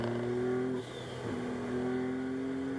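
Ferrari Challenge race car accelerating hard on the Hockenheim circuit, a loud steady engine drone from on board with a brief dip at a gear change before the revs climb again.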